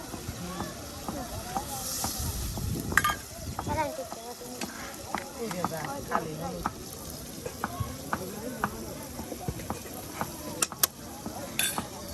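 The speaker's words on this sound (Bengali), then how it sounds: "একদম ঝালমুড়ির মতো মশলা কষানো হচ্ছে" Spice paste of chili powder and turmeric sizzles and hisses in a pan as it is stirred and fried for chicken in a village outdoor kitchen. Steady crackling continues under a person talking.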